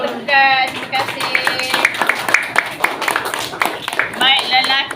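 A primary school class in a Year 3 religious history lesson claps in a rhythmic patterned beat, the children's voices chanting along over the sharp hand claps.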